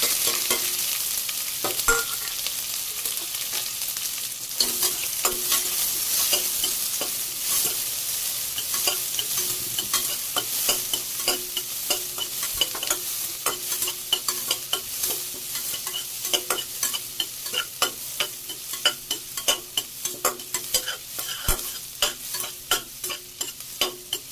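Chopped onions fry in sesame oil inside a pressure cooker, a steady sizzle with repeated scraping and tapping of a stirring spoon against the metal pot throughout.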